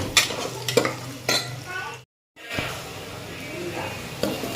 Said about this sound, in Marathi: कांदा चांगला ब्राऊन होईपर्यंत आपल्याला हे फ्राय करून घ्यायचे आहे।